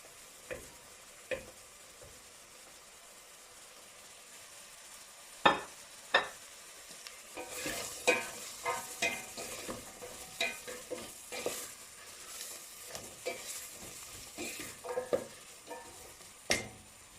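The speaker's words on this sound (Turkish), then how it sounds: "Kısık ateşte 3 dakika beraber kavuralım." Carrots and onions sautéing in a pan over low heat: a steady low sizzle with scattered clicks and scrapes of stirring, close up, with no talk.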